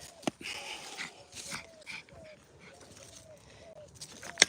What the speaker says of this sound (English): Right, chaos with the dogs.